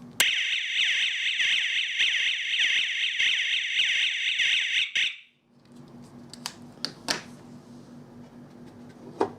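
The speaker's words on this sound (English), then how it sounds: "trigger the strobe siren by pressing panic button on remote controller" A Chuango SPS-260 wireless strobe siren blares a loud, steady, piercing electronic alarm tone for about five seconds, then cuts off abruptly, leaving faint handling clicks and low background hiss.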